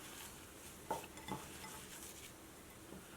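A spoon stirs and mixes potato and cauliflower paratha filling with fine ginger in a bowl, with a soft scraping churn and a couple of light clinks, quiet and close.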